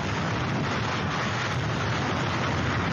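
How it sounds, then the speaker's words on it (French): Roaring hurricane wind on Saint-Martin at the height of the storm, with gusts near 300 km/h and driving rain, a loud, dense, unbroken rush filling the whole clip with no voices. "On n'entend plus que le vent."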